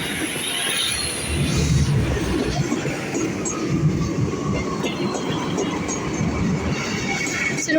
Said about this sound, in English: now departs Paynton Station is Great Western Railway